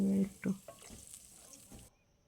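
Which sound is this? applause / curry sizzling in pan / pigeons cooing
curry sizzling in pan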